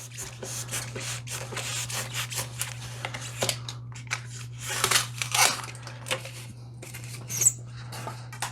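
A blade cuts a strip off a piece of foam with repeated soft scraping, squeaking strokes, close and faint over a steady low hum.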